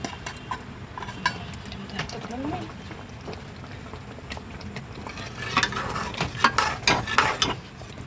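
Fried potatoes are stirred into thick masala in a pan with scraping and clinking spoon strokes that grow busier toward the end, under a quiet bubbling simmer, while a voice talks over it.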